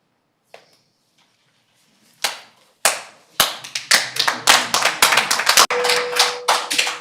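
Members of the public clap at a Port Alberni city council committee meeting, starting with a few scattered claps and building into loud, irregular applause from a modest crowd that carries on to the end.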